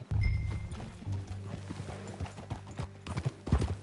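Horse hooves clip-clop steadily in Red Dead Redemption 2, a rhythmic series of close, fairly loud hoof strikes with a brief whinny-like tone near the start and a heavier flurry of steps at the end.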